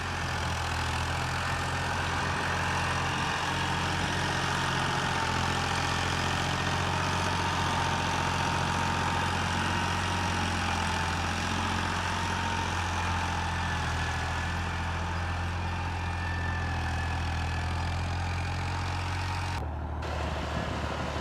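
A tractor pulling a sugarcane trolley idles steadily with a low, continuous engine drone, unbroken and fairly close for over twenty seconds, cutting out briefly near the end.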